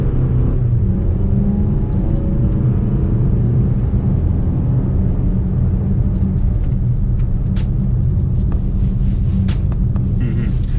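A 2019 Toyota RAV4 with all-wheel drive pulling away on a snowy road, a steady low engine and road rumble close by, with faint crunching and ticking sounds toward the end.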